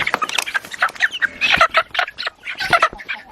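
Several chickens, including a red hen, cluck and squawk close by in quick, irregular bursts, loud and busy, with no talking.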